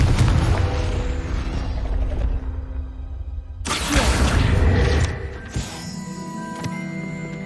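A Confringo spell blast in Hogwarts Legacy, a sudden loud booming burst that cuts through a rumbling mechanical backdrop, followed by fading crackle and creaking.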